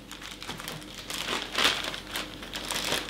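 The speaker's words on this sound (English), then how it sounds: "So I'm going to put it in a Ziploc bag." Carrots go into a Ziploc plastic bag, giving close, soft crinkling and rustling bursts of plastic over about three seconds, with no talking.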